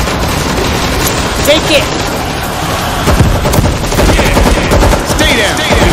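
Relentless gunfire in World War Z Aftermath, a zombie horde shooter, rattles loud and nonstop alongside booming impacts and scattered game effects, with players shouting over the din.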